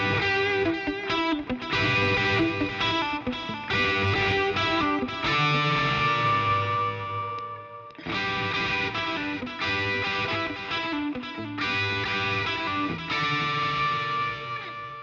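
Electric guitar played through a boost pedal, distortion and delay, loud sustained chords and ringing repeats, two phrases separated by a brief pause, with no talk.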